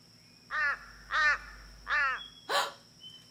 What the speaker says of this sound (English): A bird makes that fun squawking sound.